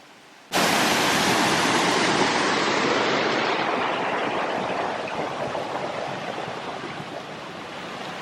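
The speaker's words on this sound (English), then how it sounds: "Go into the waterfall." A waterfall heard from close by, a sudden roar of rushing water that starts abruptly and then holds as a loud, steady broadband wash, easing slightly toward the end, with no voices.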